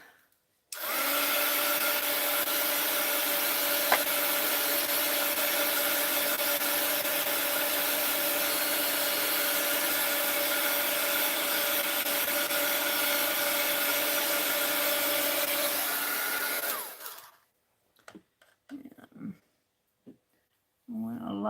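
Heat gun or craft dryer blowing on a wet mixed-media art journal page, a loud steady broadband whoosh running continuously for about sixteen seconds before cutting off, followed by a few faint handling clicks.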